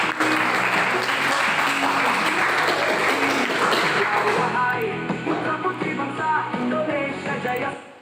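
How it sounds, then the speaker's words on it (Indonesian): Students clap together in a vocational high school classroom, loud and close, a dense burst that thins into scattered individual claps toward the end, with a few voices underneath. "Tepuk untuk kita semua"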